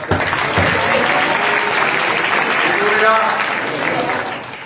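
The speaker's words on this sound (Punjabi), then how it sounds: "ਤਾਲੀਆਂ ਵਜਾਓ" A church congregation claps in a dense, sustained burst of applause that fades slightly toward the end, with a voice audible over it.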